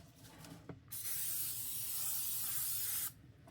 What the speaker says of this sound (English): Gotta spray your pan.